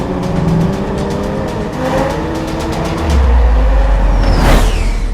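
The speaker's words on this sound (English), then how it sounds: "professional drivers displaying precision driving stunts, but instead of airplanes, they have brand new Toyota Supras" Brand-new Toyota Supra sports cars run precision driving stunts, engines droning steadily with a deeper surge and a quick rising pass near the end, fairly loud and close.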